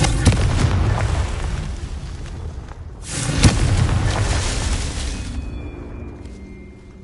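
A Confringo blasting spell explodes in Hogwarts Legacy: two sharp booming blasts, one near the start and a louder one a few seconds later, each followed by a rumbling roar that slowly fades.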